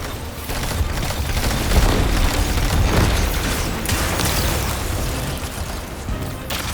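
Splinter mine blasts in the Destiny 2 Edge of Fate campaign, a dense rumble of booming detonations and debris rolling continuously through the whole stretch, loud and close with no voices over it.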